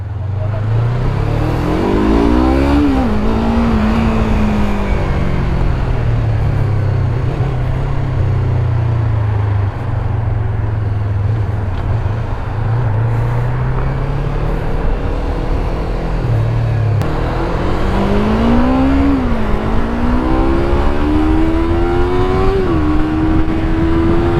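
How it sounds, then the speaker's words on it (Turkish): A 2020 Yamaha MT-25 motorcycle rides through traffic, its engine droning loudly and continuously with two clear revving climbs as it accelerates and shifts, wind and road noise underneath. "Yeni motorumuz MT25 2020 diyerekten bir videoya giriş yapalım."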